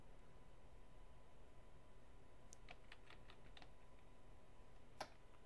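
Someone quickly types a caption on a computer keyboard in an easyDITA tutorial, a short run of soft, close key clicks over steady background hiss, followed by a single sharper tap.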